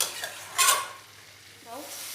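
Cubes of potato and papaya are sautéed with a little sugar in a pan: one brief, bright spatula scrape rises over a soft, close sizzle that carries on quietly afterward.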